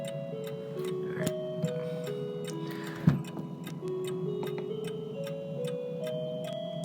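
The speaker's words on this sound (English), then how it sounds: "this is a triple chime clock with the Whittington, St. Michael's, and Westminster." A Seth Thomas Legacy V triple chime mantel clock ticks steadily indoors, crisp regular ticks close by over a faint hum, with a soft bump partway through.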